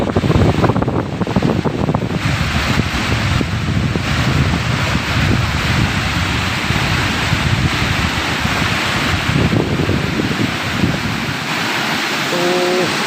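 Strong water rushing through the outlet of Rizal dam in Nueva Ecija, a loud, steady broadband roar with gusty wind buffeting the microphone throughout.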